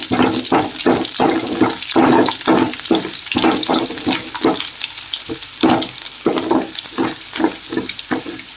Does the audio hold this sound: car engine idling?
no